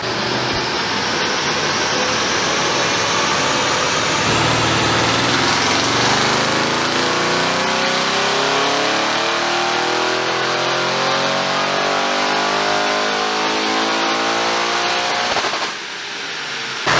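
Audi RS7 on a dyno, engine roaring loud and steady through a long full-throttle pull, pitch climbing as revs build, then cutting off abruptly near the end.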